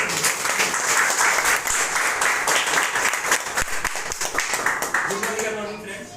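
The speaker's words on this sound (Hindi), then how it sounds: "मनोज विश्वास जी को जोरदार तालियां उनके लिए" Loud, dense audience applause at a business gathering, many hands clapping together steadily before it thins out at the end as a voice starts to speak.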